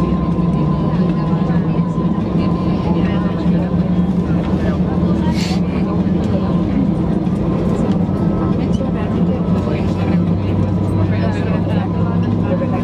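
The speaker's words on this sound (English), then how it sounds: "we'll start up our engines while still here on the stand" A Vueling Airbus A320-200's jet engines start up on the stand in a steady, loud drone with a low rumble and a whining tone, heard from inside the cabin, with voices talking over it.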